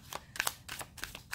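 Tarot cards being shuffled by hand, a quick series of soft papery riffles and slaps in close succession, faint and near, with no voices.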